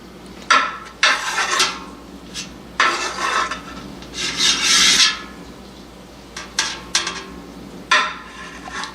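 A knife slicing through soft goat's milk mozzarella curds into cubes, giving a series of close, rasping scrapes and cuts in irregular bursts, with no talking.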